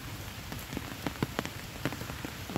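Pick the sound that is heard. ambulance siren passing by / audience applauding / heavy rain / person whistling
heavy rain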